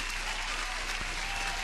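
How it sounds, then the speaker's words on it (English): Dense, continuous applause, loud and even from start to finish, like a crowd clapping together. "Let me give you an applause."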